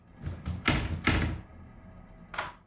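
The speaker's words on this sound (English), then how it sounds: "He tries the door and it jiggles in its frame." An apartment door jiggling in its frame: a few close rattling knocks and thumps in a quick uneven burst, then a pause and one more rattle, with no voices.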